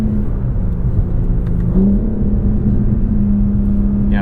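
2023 BMW M4 CSL engine in M1 mode heard from inside while driving, a loud, steady engine drone with a short rise in pitch as it revs, and no speech.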